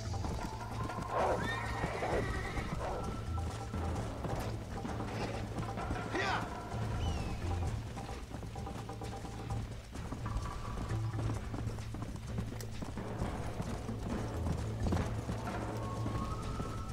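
Horse whinnies and clip-clopping hooves from the video game Red Dead Redemption, a steady trot of hooves under ambient game sound with a couple of clear neighs, while someone talks over it.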